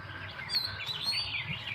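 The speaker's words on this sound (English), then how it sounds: "there's some other birds in the tree here" Red-whiskered bulbuls chirp and tweet in a tree at a local birding patch, a steady flurry of overlapping calls, moderately close, with no talking.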